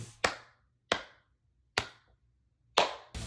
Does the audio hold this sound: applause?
yes